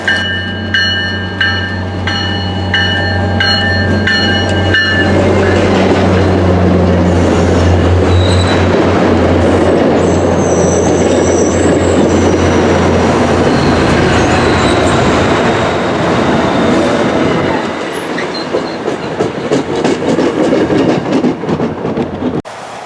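A Keolis-operated MBTA F40PH-3C diesel locomotive on the Franklin Line hums loudly as the train passes close by, its engine drone giving way to rushing wheels, clatter and faint squeals as cars roll through.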